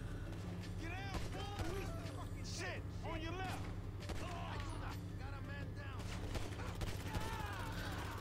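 Rapid, dense gunfire from a GTA V shootout crackles continuously over a steady low game rumble, with scattered sharp bursts layered close together.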